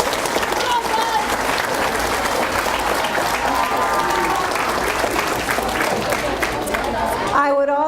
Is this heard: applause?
yes